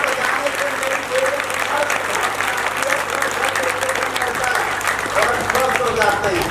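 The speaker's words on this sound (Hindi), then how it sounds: "एक बार इनके लिए जोरदार तालियां बजाएं। तालियों में दम हो।" An audience at a yoga training camp in Khatauli, Muzaffarnagar, Uttar Pradesh claps loudly and steadily, a dense sustained applause from a crowd that fills the whole stretch.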